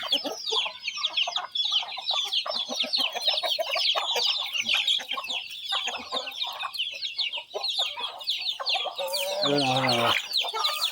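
Hens and newly hatched chicks at a backyard coop, busy continuous high peeping from the chicks mixed with clucking close by, and a louder hen call near the end.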